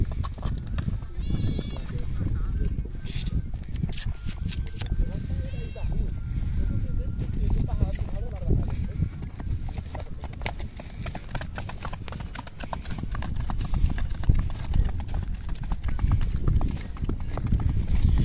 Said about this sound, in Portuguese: a gente tem um cavalo aqui